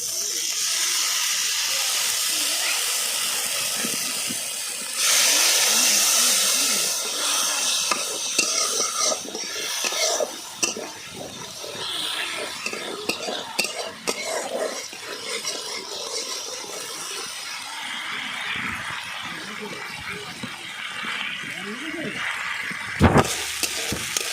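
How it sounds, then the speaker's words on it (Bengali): Spice masala stir-fried with a splash of water in a pan for a small puti fish and flat bean curry: a steady hiss and sizzle with scraping stirs, louder in bursts. "অল্প একটু জল দিয়ে কষিয়ে নেব মশলাটা।"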